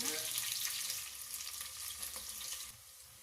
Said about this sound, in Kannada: ಉದ್ದಕ್ಕೆ ಕಟ್ ಮಾಡಿರೋ ಈರುಳ್ಳಿನ ಫ್ರೈ ಮಾಡ್ಕೊಳ್ಳೋಣ